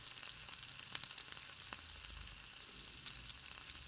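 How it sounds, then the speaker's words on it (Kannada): Curry leaves crackle and sizzle in hot oil with cumin seeds and peanuts, a steady close frying hiss scattered with sharp pops throughout, no voices. "ಈಗ ಕರಿಬೇವನ್ನು ಹಾಕ್ತಾ ಇದ್ದೇನೆ."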